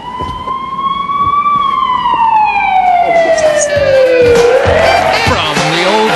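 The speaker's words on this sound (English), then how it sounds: "Anyway, what's that? Sirens." A loud, close emergency siren wails, its tone rising slowly and then sweeping down. The pitch drops as the vehicle passes, over a low rumble of traffic.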